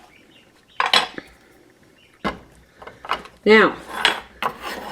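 A utensil scraping stringy seeds from a halved spaghetti squash, several separate close scrapes and knocks against the gourd, with short clinks in between and a brief spoken word.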